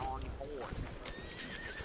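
Horse neighing and clip-clopping hooves in a PS4 video game, a short whinny over steady hoof beats, with people talking over it throughout.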